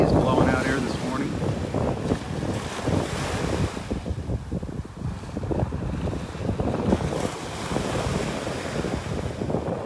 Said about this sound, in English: Relaxing, listening to the waves.